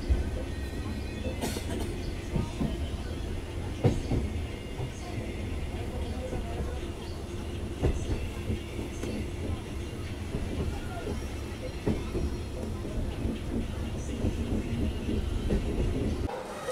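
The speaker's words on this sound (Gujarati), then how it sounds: "આપણી ટ્રેન આવી ગઈ છે વાંકાનેર જંકશન રેલવે સ્ટેશન ઉપર" The 11463 Veraval–Jabalpur Express pulls into Wankaner Junction railway station with a continuous heavy rumble of rolling railcars and occasional wheel clacks, while voices murmur in the background.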